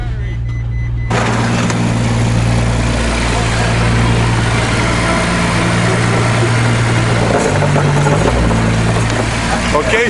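A wrecked Ferrari FF idles with a loud, steady low drone, and a broadband whoosh comes in after the first second. The pitch dips briefly near the end as people talk nearby.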